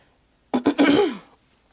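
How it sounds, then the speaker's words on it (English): A single close throat clearing: two short sharp bursts followed by a longer rasping rumble that trails off, then quiet. "had to clear my throat"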